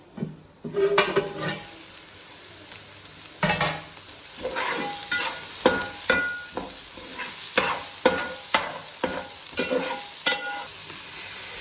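Prawn fried rice fries in a pan with a steady sizzle, punctuated by frequent sharp scrapes and clinks of a spatula stirring against the metal, close and continuous throughout.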